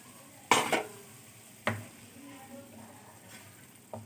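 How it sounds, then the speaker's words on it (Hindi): A spoon stirs yogurt into bottle gourd curry in a pan, with a few sharp clinks against the metal spaced apart over a faint low simmer. "हमने दही इसके अंदर डालना है और अब इसको अच्छे से हमने मिक्स कर देना है"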